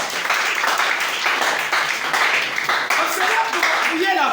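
A church congregation applauding during a French-language sermon gathering, producing a sustained dense clatter of many hands with a voice rising over it near the end.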